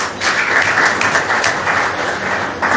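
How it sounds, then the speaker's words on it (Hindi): A crowd at a Buddha Purnima gathering in a Buddha Vihar in Jammu gives steady, dense applause to welcome a speaker. The loud clapping holds evenly with no break. "हम चाहते हैं कि उनका तालियों से वेलकम हो।"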